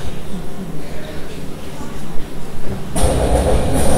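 A train rumbles steadily at close range, then swells louder with a hissing, rattling rush toward the end, with a voice speaking over it.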